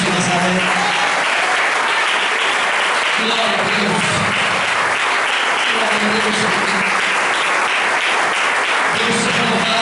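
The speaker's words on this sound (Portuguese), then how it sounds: "Você pode dar uma salva de palmas para Jesus de Nazaré." A church congregation claps and cheers loudly and continuously for Jesus of Nazareth, with a voice shouting praise over the applause.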